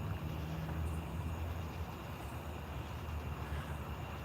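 Norfolk Southern eastbound train approaching at night near Ooltewah, Tennessee, heard as a faint, steady distant rumble with a low drone and no distinct horn, no voices over it.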